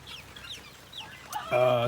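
Bantam chicks and hens cluck softly in a barnyard, with a few faint chirps, then one bird gives a louder, sustained clucking call near the end.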